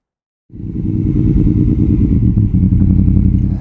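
A 2006 Honda CB1300 heavy motorcycle's engine starts up close by after a moment of silence and settles into a loud, deep, steady rumble with slight throttle variation as the ride begins.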